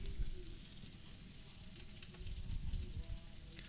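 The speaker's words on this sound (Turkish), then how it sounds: "Dostlar böyle cızır cızır" Kokoreç sizzles on a street grill in Kuzguncuk, Istanbul, giving a steady, close hiss of frying fat with a low crackle and faint clatter underneath.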